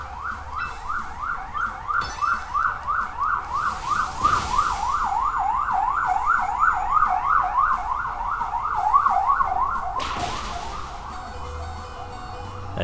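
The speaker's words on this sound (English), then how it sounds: "I'm terribly sorry about the siren noise, guys. It's very annoying." A passing emergency vehicle's siren wails in a fast, regular up-and-down cycle for most of the stretch, loud and steady. Two short bursts of broadband noise break in partway through.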